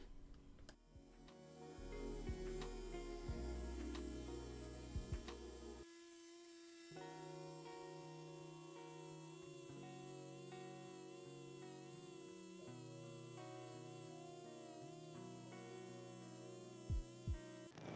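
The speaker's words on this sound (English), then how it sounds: "the RPM on this die grinder, which is a Makita" A Makita die grinder fitted with a coarse contour wheel carves a wizard figure, giving a steady high whine that shifts pitch partway through, over a low hum with no talk.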